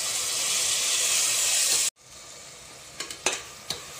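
Onions and tomatoes sizzle loudly in a hot pan for prawn biryani, a strong steady frying hiss that cuts off abruptly, followed by quieter sizzling and a few sharp stirring scrapes.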